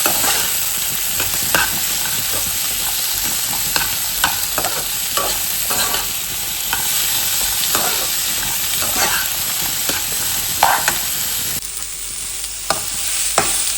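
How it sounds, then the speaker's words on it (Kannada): Onions and tomatoes fry together in a pan with a loud, steady sizzle, broken by frequent spoon scrapes and stirs in an irregular rhythm, close and with no talking. "ನನಗೆ ಟೈಮ್ ಇರಲಿಲ್ಲ ಈಗ ಅಷ್ಟೇ, ಹಾಗಾಗಿ ನಾನು ಎಲ್ಲ ಐಟಮ್ಸ್ ಒಟ್ಟಿಗೆ ಹಾಕ್ಕೊಂಡು ಫ್ರೈ ಮಾಡ್ಕೊಳ್ತಾ ಇದ್ದೀನಿ"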